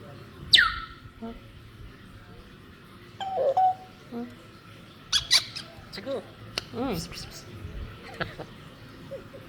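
An African grey parrot in a home calls out with scattered squeaks, whistles and chirps, some of them mimicking sounds, close by and mixed in with a person talking.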